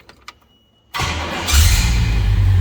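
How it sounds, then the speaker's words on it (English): A 1966 Pontiac GTO convertible engine cranks and catches after a quiet moment, then settles into a loud, rumbling run that swells as it revs slightly. "Let's go ahead and fire this up so you can hear it run"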